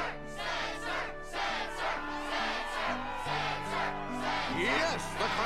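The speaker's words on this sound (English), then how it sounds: "Yes, the crowd is fired up" Crowd cheering at a Struggle tournament in Kingdom Hearts 2 swells in repeated loud waves of shouting and yelling over a steady musical backing, close and continuous.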